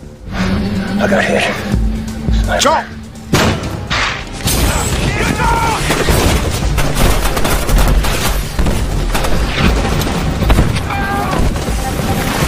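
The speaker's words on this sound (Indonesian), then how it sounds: "jual beli tembakan pun terjadi di hutan tersebut" Rapid gunfire crackles in repeated bursts and bangs in a forest firefight from a film, with voices talking over the chaotic shooting.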